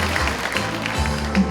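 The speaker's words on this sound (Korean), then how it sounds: "큰 박수로 맞이해 주시기 바랍니다." Audience at a community talk concert applauding to welcome guests, a continuous, even patter of clapping with a low background hum.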